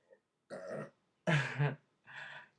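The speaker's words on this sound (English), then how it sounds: "I feel like I have to burp." A person lets out a few close, throaty burps in short bursts separated by brief silences, the middle one loudest and deepest.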